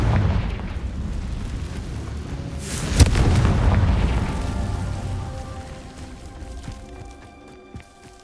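Confringo fire spell blast in the video game Hogwarts Legacy, a loud booming explosion that swells and then slowly fades into a long rumbling decay.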